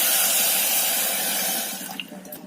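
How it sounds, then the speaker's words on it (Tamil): Water poured steadily into a pan holding a cup of sugar for a wheat-flour gulab jamun syrup, a continuous splashing rush that thins out and sputters toward the end. "அது முழுகிற அளவுக்கு தண்ணி ஊற்றிக்கலாம்."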